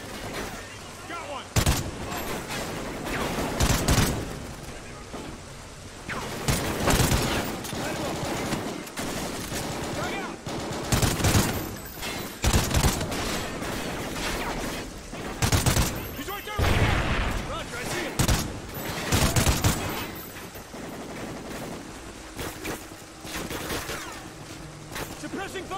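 Video game gunfire in Call of Duty Ghosts, with repeated loud bursts of automatic weapon fire over about twenty-five seconds, separated by brief pauses, and voices talking in between.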